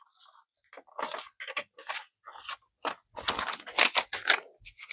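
Paper cash bills being counted and shuffled by hand into a budget envelope, a close sequence of crisp rustles, flicks and crinkles in uneven bursts with short pauses between.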